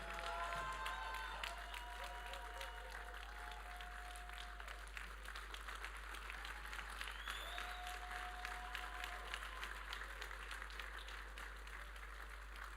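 A church audience at a men's conference claps steadily and continuously, a soft, even patter of many hands with faint voices mixed in, somewhat distant.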